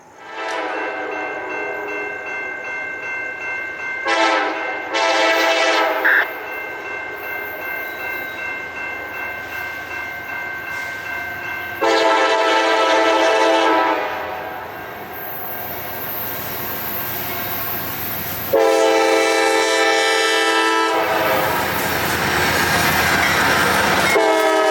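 A northbound CSX freight train rolls into the Bushnell siding on the S line, its horn blaring in long loud blasts over the steady rumble and clatter of passing cars, with the horn sounding again near the end.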